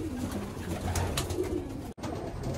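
Male pigeons cooing inside a loft near Baruipur, a steady overlapping chorus of low throaty coos that stays loud and close throughout, broken by one brief dropout near the end.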